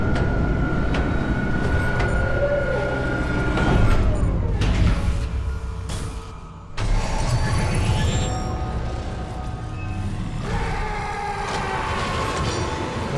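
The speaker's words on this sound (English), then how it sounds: "Replacing damaged tram car." A tram car in the Dead Space (2023) remake, rumbling and clanking along its rail with mechanical screeches and a whoosh as it comes in, loud and continuous.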